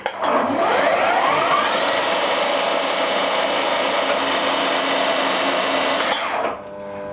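A CNC machine motor under a Heidenhain TNC155 control with an Izumi PLC starts up, and its whine rises in pitch through a gear change. It then runs as a loud, steady hum for several seconds before spinning down.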